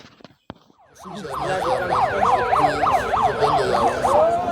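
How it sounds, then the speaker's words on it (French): An ambulance siren wails in a steady rising-and-falling cycle, loud and fairly close, after a few faint knocks and a brief quiet start. "Écoutez l'ambulance."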